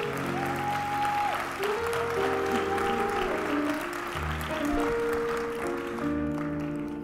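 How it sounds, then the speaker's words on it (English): A congregation claps at a Good Friday church service, a steady round of applause blended with sustained organ or keyboard chords that play throughout. "let's give them both another wonderful round of applause"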